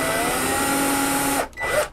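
Drill at maximum speed with light feed boring out a broken screw beneath a door hinge, a steady loud whirring grind that cuts off briefly near the end and then resumes.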